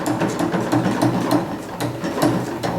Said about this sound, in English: Now I'll stitch across the bottom part of it, slowly, needles down again.